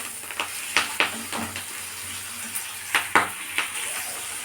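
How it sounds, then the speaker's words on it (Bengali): Chopped tomato and other ingredients frying in a pan, a faint sizzle under repeated sharp scraping strokes of a spatula stirring, several distinct scrapes spaced unevenly. "এবার এটা একটু নেড়ে দেবো এইভাবে"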